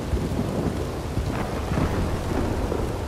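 Steady heavy rain and rolling thunder fill a Red Dead Online game scene, a dense, loud, continuous wash of downpour with low rumbling throughout and no talking.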